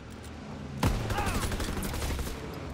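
An M1903 sniper rifle fires a single sharp, loud shot in a video game, cutting in abruptly over steady battle noise that continues afterward.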